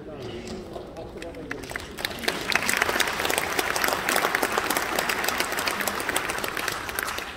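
Audience applause in a lecture hall during a special lecture at a Busan BEXCO convention, starting quietly after a moment and swelling into steady, dense clapping that continues to the end, with a voice faintly heard early on.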